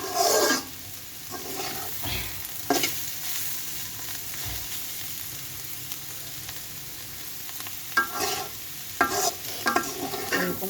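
Carrot and potato bhaji frying in a pan while being stirred, a continuous soft sizzle with intermittent scraping and clattering strokes of a spatula, close up.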